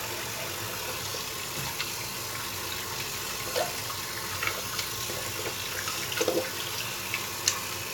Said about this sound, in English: I'm gonna rinse off real quick